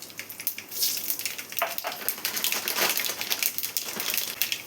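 Two teaspoons of mustard seeds hit two tablespoons of hot coconut oil in a pan, crackling and popping up close in a busy, irregular sizzle.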